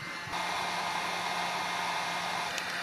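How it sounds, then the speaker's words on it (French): A Parkside PKSP 50 B1 hot air plastic welding gun blows a steady, even whoosh of hot air, continuous and close, with a faint click near the end. "le problème du pistolet à air chaud"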